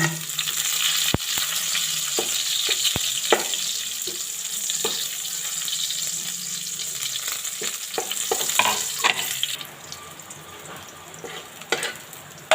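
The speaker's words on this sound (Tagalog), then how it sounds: "Ayan, nagigisa na tayo. Sibuyas or onion." Onion sautéing in a pan for a Bicolano fish and sweet potato leaf dish, a continuous sizzle punctuated by sharp utensil clicks and scrapes against the pan.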